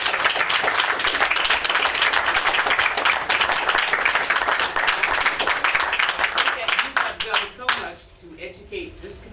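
An audience at a last class honoring a professor breaks into sustained clapping, dense and loud at first, then thinning into scattered claps that fade toward the end.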